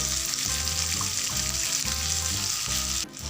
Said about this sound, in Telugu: సిమ్ టు మీడియం ఫ్లేమ్లోనే మనం ఈ ఆకుని ఫ్రై చేసుకోవాలి